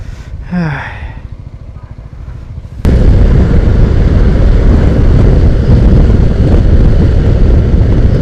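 Zontes 368G motorcycle riding along a rural road, its engine droning loud and steady with heavy wind rush that starts abruptly after a quieter opening of lighter road noise.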